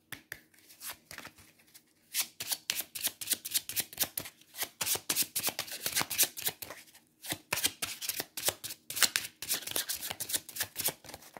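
Tarot and oracle cards being shuffled by hand, close and crisp, with repeated riffling and flicking bursts running almost continuously and a few brief pauses.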